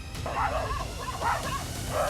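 Stray dogs on a street bark in a few repeated yelping bursts at moderate distance over a rumbling background.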